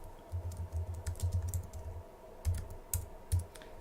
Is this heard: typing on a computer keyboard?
yes